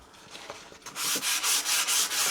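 Light hand sanding on a Harbor Freight axe starts with a few faint scrapes, then settles into loud, rhythmic back-and-forth rubbing strokes up close.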